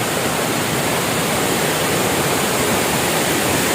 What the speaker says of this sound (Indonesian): di depan saya berada air terjun